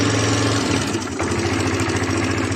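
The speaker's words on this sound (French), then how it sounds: "moteur tournant, vous entendez?" Close Elystar 125 motorcycle engine ticking over at idle, a steady low throb with a brief dip in the middle.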